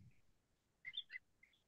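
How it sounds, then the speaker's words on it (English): A cardinal perched on outdoor power lines gives a short burst of bright, whistled chirps, faint and somewhat distant, clustered in a quick run with a pause before a final note. "Cardinal up here on the power lines making crazy noise."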